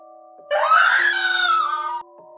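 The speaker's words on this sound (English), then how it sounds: "A heartbeat later, the screaming began." A gut-wrenching scream of terrible suffering in a creepy horror tale, one loud sustained cry lasting about a second and a half, rising then holding and cutting off abruptly over a faint steady hum.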